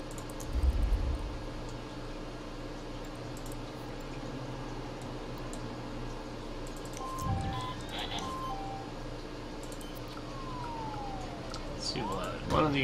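Ambulance sirens wail faintly in the distance, their rising and falling tones drifting through a steady background hum, with a couple of louder low thumps near the start and end.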